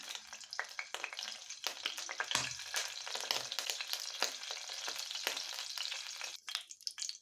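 Cinnamon, a bay leaf and cumin frying in hot oil for a cauliflower dish, a soft crackling sizzle with sharp spits and pops, close but fairly quiet, without any voices.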